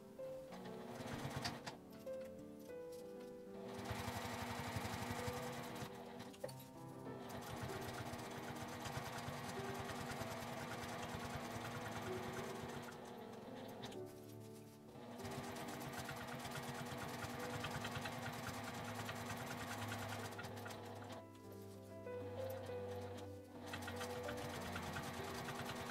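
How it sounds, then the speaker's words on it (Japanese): A sewing machine runs steadily while edge-stitching around a zippered accordion coin purse, a continuous close mechanical whir with brief pauses and slight changes in speed, no voices. "ぐるりと端ミシンをかけます。"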